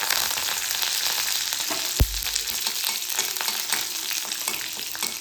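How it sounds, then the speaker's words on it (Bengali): Black mustard seeds and curry leaves fry in hot oil, giving a dense, steady crackling sizzle up close, with a single low thump partway through and no voices. "তেলের সঙ্গে খুব ভালোভাবে সরষে আর ক্যারি পাতাটাকে ভেজে নিয়ে"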